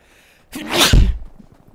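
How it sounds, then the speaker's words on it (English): A single sharp sneeze bursts out after half a second of near silence, loud and close, with a breathy build and a heavy low-end blast before trailing off. "I can feel a sneeze."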